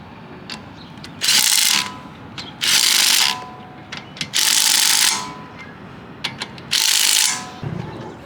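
Lug nuts being removed from the wheel of a lowered BMW M4 Competition G82 with a ratchet, four loud buzzing clicking bursts, each lasting about a second, separated by short pauses, close up.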